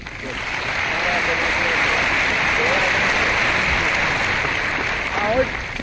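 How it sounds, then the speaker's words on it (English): Stadium crowd applauding at a rain-hit 1969 US Open tennis final, a broad continuous wash of clapping that swells in and holds steady, sounding somewhat distant and hiss-like. "I think we owe him a round of applause"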